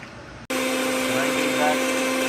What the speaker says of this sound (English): Grinding for rich marination.